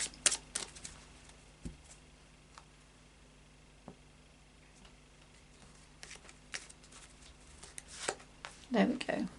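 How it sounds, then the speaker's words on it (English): An Oracle of Visions card deck is given a final shuffle in a quiet room: soft riffling and scattered crisp clicks of cards, with small bursts near the start and a busier flurry toward the end. "and then a final shuffle of the Oracle of Visions deck"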